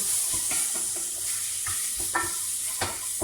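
Small diced chicken, still partly frozen, sizzles steadily in a hot pot for soup, with a constant frying hiss broken by occasional clacks and scrapes of stirring.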